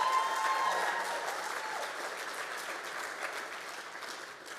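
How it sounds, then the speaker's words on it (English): A school district audience applauds at a State of the District event, with sustained dense clapping from a large crowd that stays steady and slowly fades. "Let's give them a huge round of applause."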